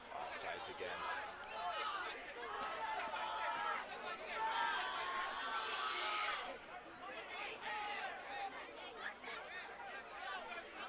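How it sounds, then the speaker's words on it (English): Crowd chatter from the East supporters at a Cranston City Cup soccer match, a steady murmur of overlapping voices and occasional laughter that swells briefly midway before settling back. "And some conversation from the East crowd"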